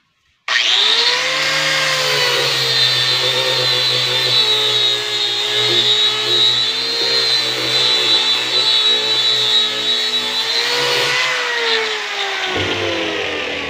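Angle grinder with an adhesive sanding disc smoothing a piece of wood, a loud high whine that starts abruptly and holds steady with slight dips in pitch for about eleven seconds, then winds down.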